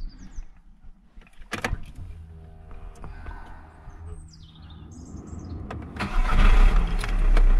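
A car engine being cranked by its starter motor after the starter's carbon brushes were replaced: a quiet whir builds into loud, close cranking and the engine catching near the end, with someone speaking and birds chirping in the background.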